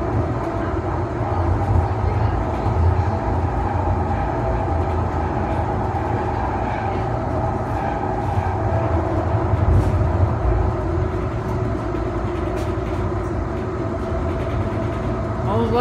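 A Siemens S200 train on the CT Redline rumbles with a continuous low roar and rail noise, steady throughout at moderate distance, with voices faintly underneath.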